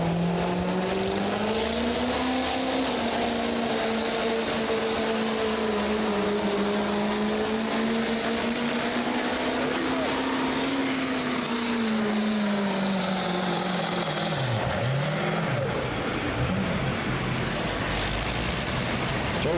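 A Chevy pulling truck roars at full throttle during a truck and tractor pull in London, Ohio, its engine a loud, sustained howl that wavers in pitch and surges again near the end of the run.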